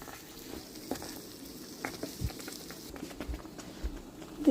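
Palkappa, tapioca cooked in milk, is stirred in a pan: soft bubbling and sizzling under a series of irregular thuds and scrapes from the spoon, close and moderately quiet.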